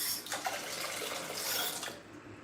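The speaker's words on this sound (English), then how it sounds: "The water is too slow." A water tap runs slowly during a low water supply in a Philippine home, giving a steady soft hiss and trickle that holds for about two seconds, then thins out at the end.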